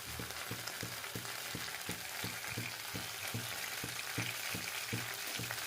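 Oil sizzling and frying in a pan while cooking chicken curry, a steady loud crackle over a regular thumping stir rhythm about twice per second, with no talking.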